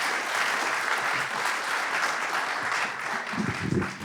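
A crowd applauds at a Free Speech Union event in Christchurch, producing dense, even clapping that holds steady for four seconds. A low murmur of voices rises near the end.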